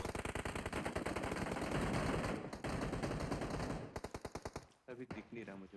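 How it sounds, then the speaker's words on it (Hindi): Rapid automatic gunfire in the PUBG Mobile game lobby, a dense, loud stream of shots that breaks into separate bursts near the end. "अब इनकी वजह से कान पे गन फायरिंग होती रहती है।"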